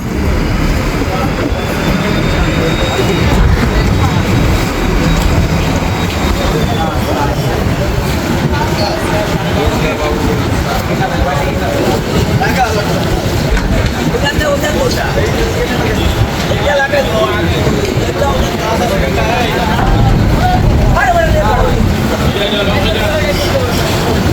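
A passenger launch travels the Tetulia river from Bheduria to Laharhat. Its engine drones in a steady, loud, continuous rumble throughout, and voices talk over it.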